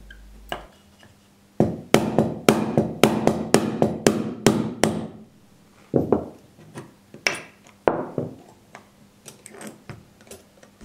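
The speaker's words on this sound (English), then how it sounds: "remove the retaining pins which hold in the trigger unit using a parallel punch and a hammer" A hammer strikes a parallel punch to drive out the trigger retaining pins of an HW97 air rifle resting on a timber block, giving sharp metallic taps in quick runs of about a dozen hits, then scattered single blows.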